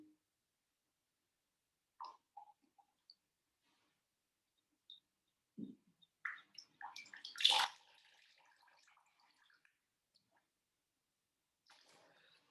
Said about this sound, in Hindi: मुंह से पिया और नाक से पानी बाहर कर दिया।